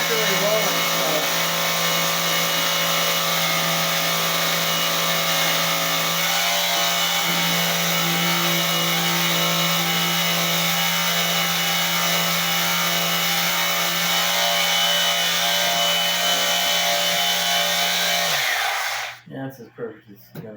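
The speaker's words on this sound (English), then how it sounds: "So I'm gonna sand this down, make it fit a little easier." Continuous loud sanding of a model rocket part, a steady abrasive whir running almost unbroken for about nineteen seconds before stopping abruptly.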